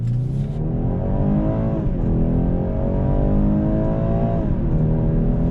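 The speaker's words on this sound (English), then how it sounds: "We're gonna come to a slow roll here, and we're gonna go on throttle." A 2021 BMW 430i coupe with a 2-liter turbo and ZF 8-speed accelerates on throttle from a slow roll, its engine note rising and dipping at a gear change, then climbing again, loud, close and steady with no talking.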